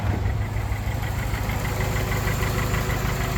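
A car engine idles steadily and close by, thought to have an oil-related valve tick, with a faint fast ticking running through the even mechanical hum.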